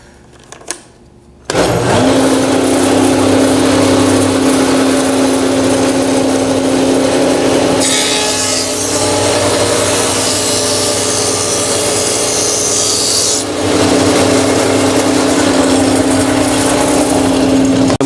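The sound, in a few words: jointer machine planing wood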